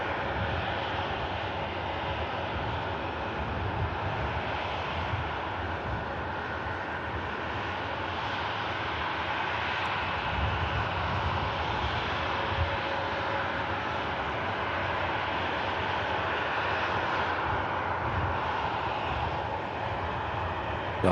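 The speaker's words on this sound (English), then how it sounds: "You have the Austrian Airlines Embraer E190 taxiing in from Vienna." Austrian Airlines Embraer E190 jet taxiing at Manchester Airport, a steady broadband engine roar with a constant whine, continuous and fairly close throughout without speech.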